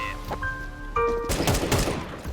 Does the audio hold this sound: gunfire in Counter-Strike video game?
yes